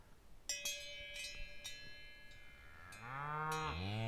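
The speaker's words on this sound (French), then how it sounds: "écoutez le message de la vache" A cow lets out a long, loud moo near the end, rising in strength over the last second, after several short clanking knocks earlier in the clip.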